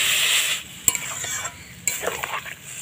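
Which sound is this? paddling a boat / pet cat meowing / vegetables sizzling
vegetables sizzling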